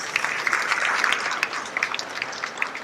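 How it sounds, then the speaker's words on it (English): At a school event, an audience claps to welcome the chief guest: a short burst of scattered, crisp handclaps at moderate volume, uneven in rhythm. "Please join me in welcoming ma'am with a huge round of applause."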